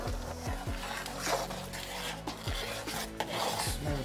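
A spoon scrapes and stirs thick hominy corn porridge in a pot, giving repeated rasping strokes against the pot in an uneven rhythm that continues throughout, close and fairly loud.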